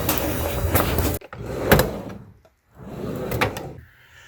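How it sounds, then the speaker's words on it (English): A door is shut in a hurry at home: scraping and clattering movement, a sharp closing thud near the middle, a brief silence, then more rattling and shuffling nearby. "Close the door. Close the door. Hurry!"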